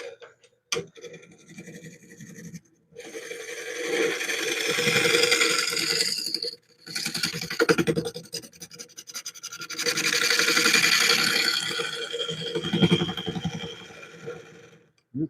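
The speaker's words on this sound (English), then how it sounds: "This time I'm just doing a scraping cut." A scraping cut on a wooden bowl spinning on a lathe makes rough, raspy scratching in several sustained passes separated by brief pauses, loud and close.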